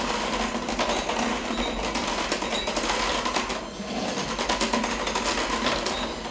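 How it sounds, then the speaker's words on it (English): Electric hand mixer whirring steadily as it blends cake batter in a bowl, a continuous loud mechanical buzz with slight rattling that holds throughout without any talk. "you want to just take your mixer and get that blended real well"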